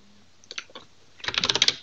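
Keys on a computer keyboard are tapped a few times, then struck in a quick run of clicks, close and clear, with no talking.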